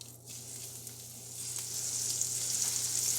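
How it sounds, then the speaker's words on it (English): Ahi tuna sears in a hot pan, a hiss that rises from quiet to a steady bright sizzle over a few seconds, close and continuous. "See, we just have a little sear right on the edge."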